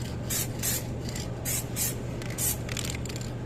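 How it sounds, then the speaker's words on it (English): Aerosol can spraying clear coat in short bursts for a micro paint repair blend on a car panel, several brief hissing puffs spaced about a second apart, close and fairly quiet with no talk. "I'm just gonna spray a little bit."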